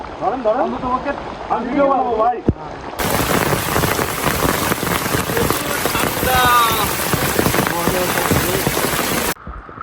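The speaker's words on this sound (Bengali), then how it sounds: "বৃষ্টি শেষ আর ঝিরিপথে পানির স্রোত। এই হচ্ছে পানির স্রোত।" Rushing water of a rain-swollen stream along a forest trail near Icchakhum waterfall flows steadily and loudly, a broad continuous wash, with people talking over it at the start and in the middle.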